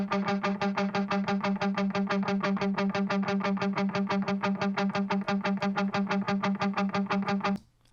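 Rapid, evenly pulsed tones run through a Waves TrueVerb plugin using only early reflections on the right side, giving a steady, dense stream of repeated notes that stops abruptly near the end.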